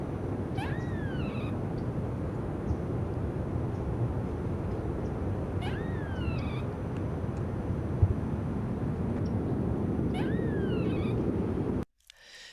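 A squirrel gives its moaning alarm call, three separate rising and falling wails spaced about five seconds apart over steady outdoor background noise, faint and alone.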